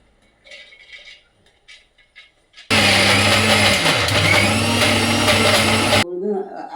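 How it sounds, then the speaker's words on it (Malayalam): A kitchen mixer grinder grinding soaked urad dal runs loud and steady for about three seconds, its motor whine dipping briefly as the batter churns, between quieter handling sounds before and after. "അത് ഇതാ മിക്സിയിൽ ഇട്ട് അരയ്ക്കാൻ പോകാൻ"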